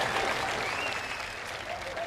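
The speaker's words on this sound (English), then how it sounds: "Can we just give them another huge round of applause?" A crowd at an all-star golf exhibition match applauds Kip and Novak Djokovic, a dense burst of clapping that holds steady and then thins slightly over two seconds.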